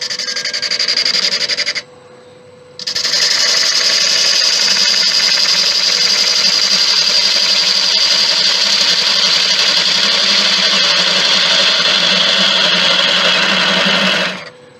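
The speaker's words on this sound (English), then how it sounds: "I'm just going to trim that with a parting tool." A parting tool trims a Thai redwood vase spinning on a wood lathe, giving a steady loud whirring hiss that cuts out briefly near the start, then runs on continuously until it stops at the end.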